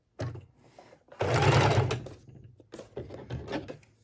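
A sewing machine stitches a raw-edged junk journal tag in short bursts: one brief run, then a longer steady stretch of stitching, then several shorter choppy runs, close and fairly quiet with no talking.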